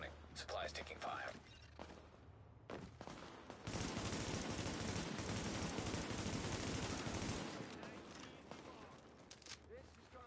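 Sustained automatic gunfire in the video game The Division, a dense roaring burst lasting several seconds between sparser shots, with talking over parts of it.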